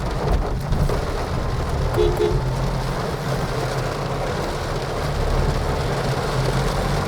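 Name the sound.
heavy rain with thunder in forest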